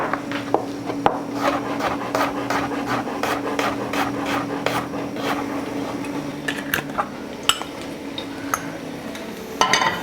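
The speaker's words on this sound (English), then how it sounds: "just slice up a little piece of garlic" A kitchen knife slices a small piece of garlic on a board for a potato tomato frittata, making a quick, steady series of crisp cutting taps close by with no talking.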